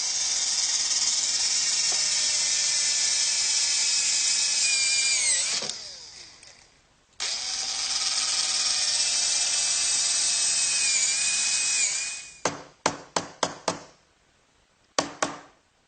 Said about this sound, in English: I'll do that by using a brad point bit and a chisel to remove